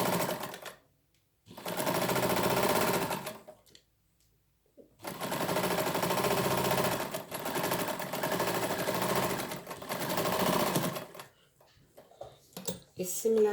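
A sewing machine stitches a welt seam in three long, rapid bursts of needle chatter separated by short pauses, close and loud, with a few clicks as it stops.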